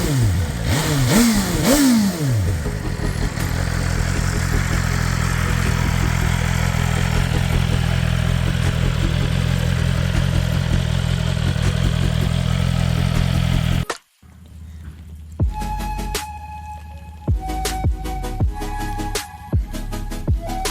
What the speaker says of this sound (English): BMW runs the cold start once the bike is off for a few minutes.